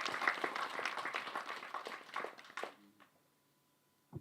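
Audience clapping for a Tamil film at a speech event, a few seconds of moderate applause that tapers off into near silence.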